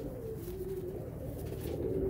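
A golden pigeon with a fully coloured tail gives a low, rolling coo, near and continuous, with a couple of slightly stronger swells and no voices over it.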